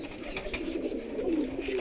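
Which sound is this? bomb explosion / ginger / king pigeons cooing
king pigeons cooing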